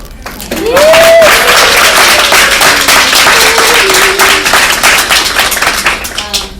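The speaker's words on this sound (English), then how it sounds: "I just wanted to take a moment to applaud our host." Steady applause and clapping from a crowd, loud and sustained, with some voices and a rising whoop mixed in before it tapers.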